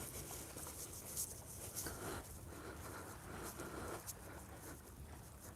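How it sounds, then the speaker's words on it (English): Light rain patters outside before dawn near a beach, a soft steady hiss with scattered drops and a few brief taps, faint and even throughout, with no voices. "It's raining here."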